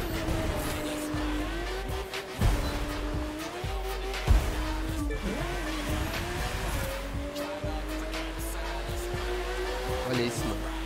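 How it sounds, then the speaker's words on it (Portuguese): A video game car drifts through a town square, its engine droning steadily with a long rising tire squeal and skid layered on top, and a voice speaks briefly over the continuous roar. "Fazendo drift que sabe."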